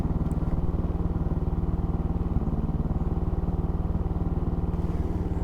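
A Motobravo Roma 150cc scooter engine idles a little high, a steady, loud, close putter with an even rapid pulse and a faint clatter throughout, no voices.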